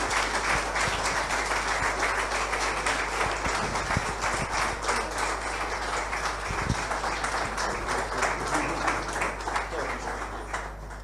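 An indoor congregation applauds visiting guests with continuous, steady clapping that fills the room, slightly distant and even, with faint voices mixed underneath.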